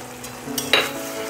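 Fried small fish go into a pan of cooking piring greens, giving a soft sizzle with a couple of brief clinks and a short burst of spatter near the middle.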